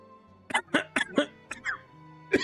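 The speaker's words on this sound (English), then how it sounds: "I'm gonna cough all of a sudden" A run of short, close coughs in quick succession, then a pause and one more cough, with faint tonal sounds underneath.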